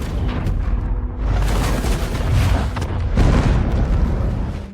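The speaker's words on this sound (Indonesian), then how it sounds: "Bom yang dipasang Freddy di kilang minyak meledak lebih cepat dari perkiraan." A bomb explodes at an oil refinery in a film soundtrack: heavy, rumbling blasts roll and swell one after another, loud and booming throughout.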